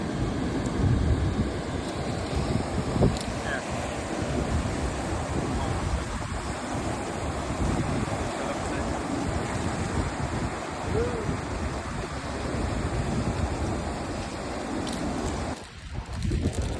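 Waves at a beach in Papatowai wash in with a steady broadband roar, with wind buffeting the microphone and faint voices now and then underneath.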